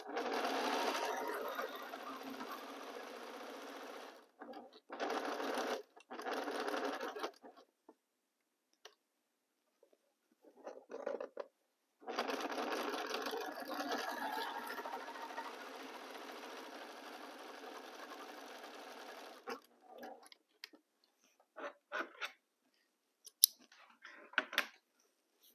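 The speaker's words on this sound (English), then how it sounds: "We sew a quarter of an inch. We align the fabric." A sewing machine stitches a quilt block with a quarter-inch seam, running in several loud, steady whirring bursts separated by pauses, with small clicks and snips in between.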